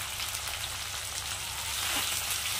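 Ginger garlic paste sizzles in a pan with browned onion and tomato, giving a soft, steady, even hiss of frying that stays unbroken throughout.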